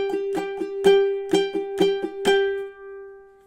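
Ukulele strumming the intro chords of a spooky etude, about eight crisp strokes in a lilting rhythm, then a last chord left to ring out and fade, close and alone.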